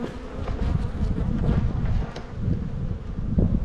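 Honey bees buzz at an open hive that is trying to swarm, a dense, close, continuous drone of many wings with a little wind noise and rustling underneath.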